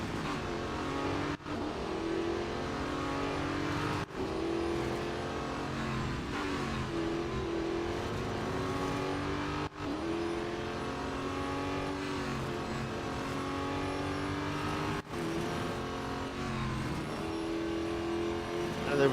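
Race cars in the mobile game Real Racing 3 drone and rev steadily through a multi-lap race. Loud engine tones rise and fall continuously, broken by several brief dips at gear shifts, with no talk.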